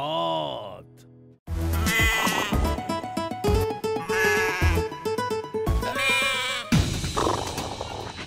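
Goat bleating several times in a row, loud and close, with quavering cries following a brief quiet gap, set amid a rural livestock scene.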